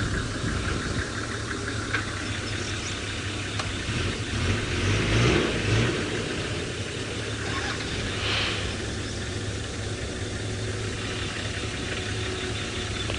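Steady traffic noise of cars passing continuously during a sunrise safari drive, a broad rushing roar with engine hum rising and falling, no distinct pauses.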